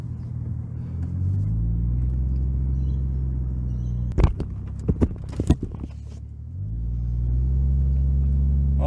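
A car with a turbocharged Barra engine running on E85 rumbles at a steady idle, then bursts into a flurry of loud sharp pops and revs during a burnout before settling back into a deep, rising drone.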